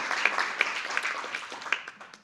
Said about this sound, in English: Please give her another round of applause as she's finished.